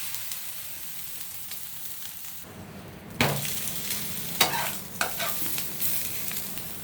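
Masala akki rotti (rice roti) frying on a hot pan, a steady sizzle that briefly drops before bursting louder with crackling pops and stirring scrapes, close and alone without talk.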